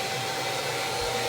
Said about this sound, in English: But I love the type of vacuum cleaners like this.